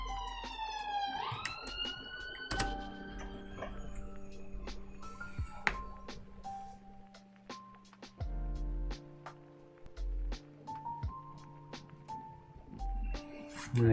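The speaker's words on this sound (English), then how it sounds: "Sorry about the sirens, guys." Police sirens wailing outside during a live stream, a rising siren sweep at the start followed by scattered pings and tones, with sustained siren-like pitches in the background.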